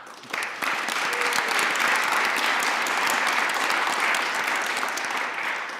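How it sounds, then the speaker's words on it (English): An audience at a panel on faith, culture and community claps steadily as panelists are introduced, a full, even wash of applause that starts abruptly and holds throughout. "you're clapping with the name of each of these persons"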